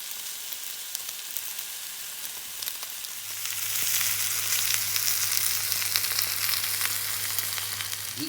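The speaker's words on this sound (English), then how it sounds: "Seal on the pan." Goat meat seared in a hot pan after seasoning with salt and pepper, giving a steady close sizzle that swells louder partway through, with a low hum running beneath it.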